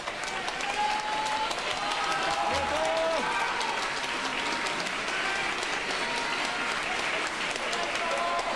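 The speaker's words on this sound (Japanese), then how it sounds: "皆様温かな拍手をお送りくださいませ。" Steady, warm applause from a crowd gathered outside a Hyogo governor election campaign office during a victory celebration, continuous clapping with crowd noise and voices mixed in.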